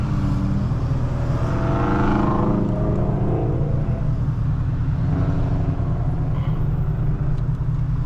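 A supercharged Camaro ZL1 with a manual gearbox rumbles steadily from close by, its engine note rising and easing through a deep, continuous drone with no voices over it.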